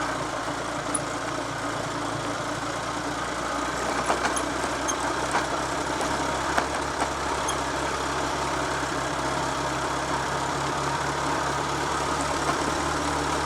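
Triumph Trophy TR5 motorcycle engine pulling steadily in second gear on a ride, a loud continuous drone with a low rumble and faint ticking, with no talk.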